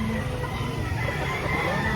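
Chickens and roosters at a crowded poultry market fill the air with a steady, dense wash of clucking and crowing, with no clear single call standing out.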